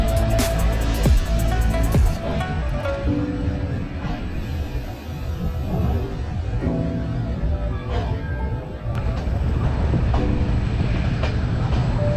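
Inside a moving passenger train on a Bangladeshi route, a loud continuous rumble of wheels and carriage with rhythmic clacking and rattles, squeals in places, and passenger chatter faintly underneath.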